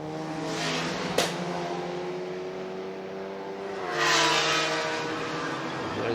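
GT race car in a Baltic GT and WSMP GT class race, passing on the circuit at the DeWALT Grand Prix, its engine note holding a steady pitch, a sharp click early on, then a louder surge about two-thirds through.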